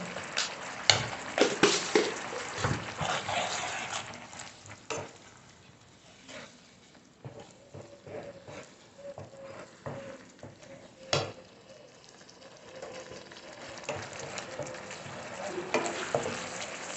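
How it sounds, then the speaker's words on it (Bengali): Spice masala for matar paneer fries in a pan, a soft sizzle with bursts of stirring and scraping early on, then quieter frying with occasional clinks, close and without talk. "আমি মশলাটা একটু কষিয়ে নিই, ভাজা ভাজা হয়ে গেলেই আমি মটরশুঁটিটা দিয়ে দেবো।"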